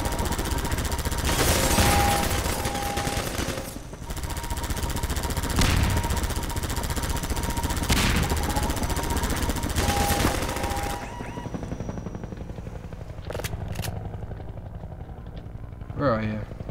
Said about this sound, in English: So, I'm guessing we can take out the helicopter.